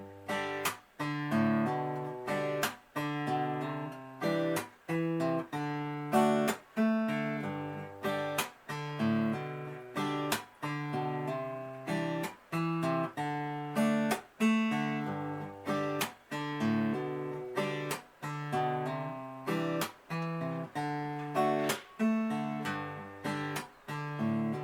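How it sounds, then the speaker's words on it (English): Acoustic guitar picks a funky Irish jig pattern with hammer-ons, played alone in a steady, bouncy rhythm of plucked notes and strums that repeats throughout at moderate volume. "that is my trademark funky hammer-on jig"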